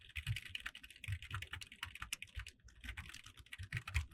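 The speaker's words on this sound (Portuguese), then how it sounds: "Cara, você vai ficar digitando." Fast, continuous typing on a computer keyboard while writing in Notepad, with close, uneven bursts of key clicks and brief pauses, no voices.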